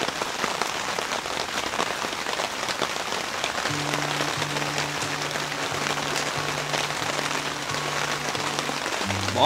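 Steady rain patters continuously on a surface, a dense hiss at moderate level joined midway by a low sustained tonal hum that pulses in short segments.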